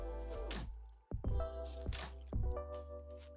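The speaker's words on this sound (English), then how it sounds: "I'm just going to give it a bit of a stir with a plastic spoon" A plastic spoon stirring film developer in a container, a few close wet sloshing and squishing strokes with sharp clicks at the start of each, against a steady low hum.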